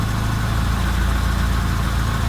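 A Mitsubishi 4G13 car engine idles at 800 RPM with a loud, steady, even rumble and a fast low throb, heard up close with no change in speed.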